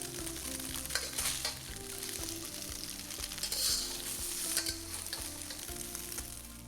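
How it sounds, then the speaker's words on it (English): Tofu pieces fry in oil in a pan while being cooked for bean sprouts with tofu, giving a steady crackling sizzle with a low background hum and occasional louder pops and scrapes, close and unbroken by talk. "You do not need to fry and brown all sides of the tofu."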